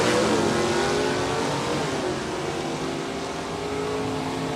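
A Corvette AA stock drag race car roars loudly down the strip, its engine tone shifting and rising as it passes, a sustained close car engine with no talk.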